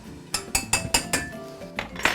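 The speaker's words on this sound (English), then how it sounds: "you just want to stir until all the sugar's dissolved" A metal spoon stirs sugar into hibiscus simple syrup in a pot, knocking against the sides in a run of about eight sharp, ringing clinks at a steady pace, close and fairly loud.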